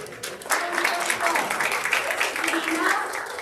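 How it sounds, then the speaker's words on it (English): An awards-ceremony audience claps for community partners coming up to collect plaques, a steady spread of applause running throughout, with voices talking over it. "Y'all can clap for"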